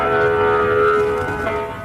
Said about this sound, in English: It came from a newly installed siren at the Fernald plant, designed as an early warning system for nearby residents.